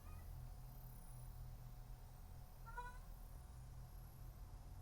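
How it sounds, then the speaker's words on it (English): A cat meows loudly once, a drawn-out wavering call standing out clearly against a low steady hum, with no talking. "he just started meowing like crazy"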